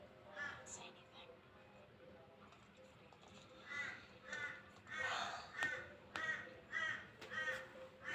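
Crows in the Minecraft video game caw in a series of rough, repeated calls that grow louder and more frequent over the second half, set against a quiet background.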